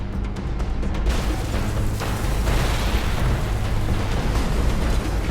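Continuous loud rumbling blasts with deep booming low end, a sustained roar of explosions filling the scene with no pauses.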